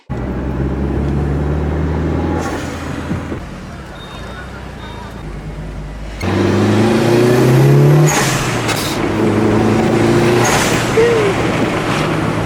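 Busy street traffic at night in a neighbourhood, with cars and trucks revving and passing close by, a brief air-brake hiss, and people talking over the steady road noise.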